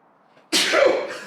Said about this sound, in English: that sneeze thingy is happening again